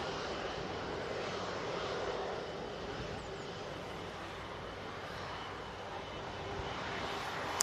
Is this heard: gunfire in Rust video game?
no